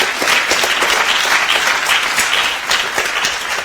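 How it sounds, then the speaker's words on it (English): Loud, sustained applause from a symposium audience cheering the finalists of a cloud computing idea challenge, a thick continuous clatter of many clapping hands filling the room throughout. "Once again, please, big round of applause."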